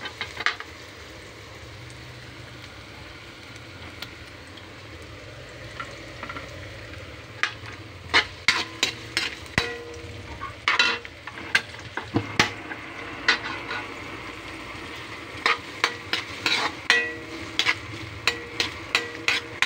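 Garlic and onion fry in a pan, browning before chicken goes in for chicken tinola; a steady low sizzle runs throughout, with sharp utensil scrapes and taps growing more frequent in the second half.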